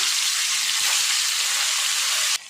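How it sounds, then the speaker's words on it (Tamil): Fish frying in hot oil in a pan, a loud, steady, dense sizzle and crackle that holds evenly, then drops suddenly near the end to a quieter sizzle. "இதே மாதிரி நம்ம ரெடி பண்ணி வச்சுருக்கிற எல்லா மீனையும் போட்டு நம்ம பொரிச்சு எடுத்துக்கலாம்."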